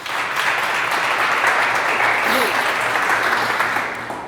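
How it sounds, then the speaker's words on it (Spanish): A church congregation bursts into steady, sustained applause at a worship service, a dense, even wash of many hands clapping close by that holds level for several seconds before easing slightly at the end. "Dale un aplauso al Espíritu Santo."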